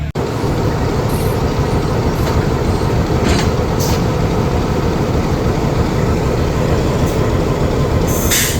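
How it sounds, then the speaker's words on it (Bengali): A locomotive shunts at Kaunia Junction in Bangladesh for the Dolonchapa Express, with a loud, close, continuous rumble and clatter throughout. "লোকোমোটিভটি শান্টিং করা হচ্ছে"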